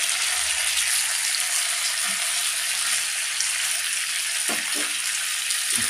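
Chicken leg pieces fry in a pan with a constant bright sizzle and hiss throughout, marked by a few soft stirring knocks and no talking.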